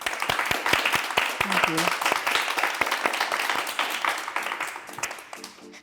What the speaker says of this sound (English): can we give a round of applause to thank my phenomenal guests for being here?